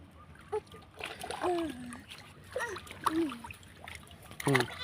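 A child swimming with a bottle in open water makes splashes and sloshing, close and intermittent, mixed with voices and a child's speech.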